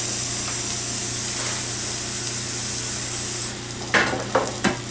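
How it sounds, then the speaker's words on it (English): Running water pours steadily from a kitchen tap as egg mixture is rinsed off a platter, a loud constant hiss that cuts off near the end, followed by a few clattering knocks. "I'm going to dump the egg mixture off of my platter and just wash it real quickly"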